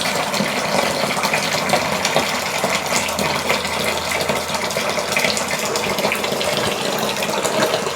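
Bourbon mash liquid drains from a grain basket in a steady, gushing stream of pouring liquid, continuous and fairly loud for the full stretch, with no voices over it.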